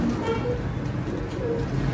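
A large golden pigeon cooing close up, low murmuring coos over a steady hum of distant traffic, continuous through the short stretch.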